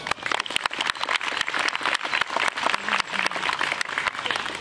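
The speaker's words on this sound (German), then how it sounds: "Applaus." An audience at a children's fairy-tale show of The Bremen Town Musicians claps loudly, with dense, close applause running throughout.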